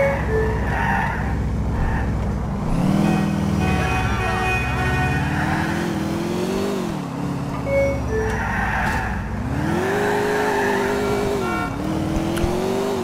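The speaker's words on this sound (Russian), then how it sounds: "Хорошая машинка вот эта прям. Хорошо едет. Быстро. Маневренная достаточно." Car engine in GTA 4, droning steadily throughout with rising and falling revs as the car accelerates and shifts, loud and close, with in-game music or sirens layered faintly above.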